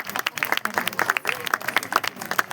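An audience at a cultural event claps together, a busy patter of many hands with uneven peaks and a faint murmur of voices beneath, lasting throughout.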